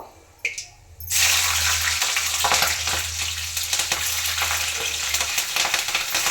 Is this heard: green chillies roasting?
yes